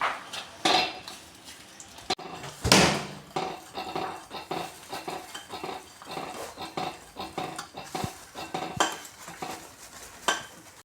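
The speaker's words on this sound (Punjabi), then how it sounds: "ਕੁਲਿਆ ਹੋਇਆ ਬੇਸਨ ਤੇ ਸੂਜੀ ਇਸ ਨੂੰ ਚੰਗੀ ਤਰ੍ਹਾਂ ਮਿਕਸ ਕਰ ਲਾਂਗੇ" A spoon scrapes and knocks against a pan while roasted gram flour and semolina are stirred into melted sugar for halwa, giving irregular metallic clinks and scraping strokes, close and fairly loud, with no talking.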